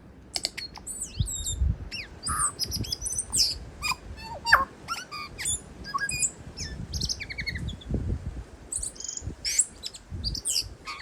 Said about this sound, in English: enjoy this bird singing